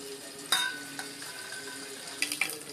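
Mustard seeds, curry leaves and cumin fry in hot oil in a pan, a steady crackling sizzle with a few sharp pops and utensil clinks, close and moderately quiet.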